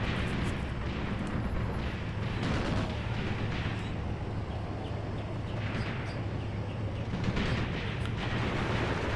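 Air force bombardment in the war game Graviteam Tactics: Mius Front, a continuous low rumble of distant explosions with occasional heavier blasts rising out of the din.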